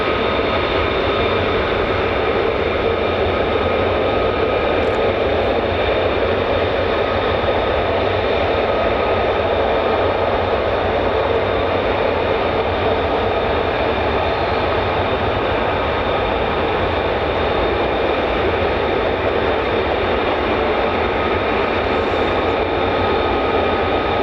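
An F-15 fighter jet at RAF Lakenheath, home of the 48th Fighter Wing, holds a loud, steady, broadband engine roar, with no breaks or voices.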